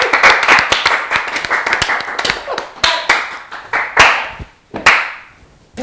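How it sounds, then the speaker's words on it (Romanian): A small crowd claps steadily and briskly at first, then the applause thins into a few scattered, louder claps before fading out. "Aplauze"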